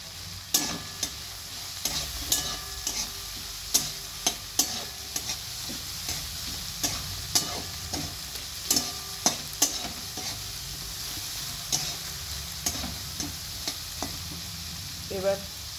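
Vegetables fry and sizzle steadily in a pan, with repeated sharp scraping knocks of a spatula stirring them at an uneven rhythm, close and moderately loud.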